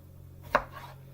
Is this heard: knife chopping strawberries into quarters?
yes